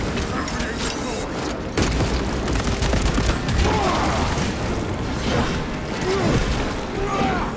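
A frag grenade bursts with a heavy boom amid dense battle noise in Warhammer 40k: Space Marine 2, layered with clattering combat sounds and voices talking throughout.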